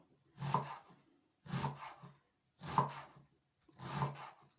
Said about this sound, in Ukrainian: роблю такі надрізи і так ось такими крупненькими нарізаю